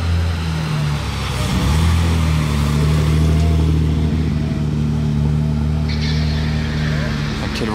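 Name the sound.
Mercedes 300 SL coupé car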